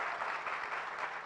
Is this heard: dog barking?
no